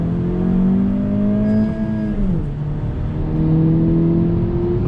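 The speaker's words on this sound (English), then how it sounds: "I'm in second gear, rolling on throttle." A 2020 Honda Civic Si pulls hard in second gear, its close, loud engine note climbing steadily in pitch, dipping briefly midway, then rising again.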